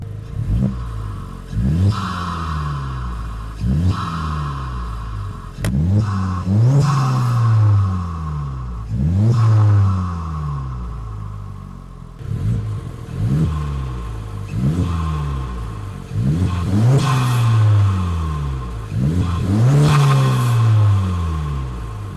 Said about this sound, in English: I'm gonna go ahead and get you an exhaust sound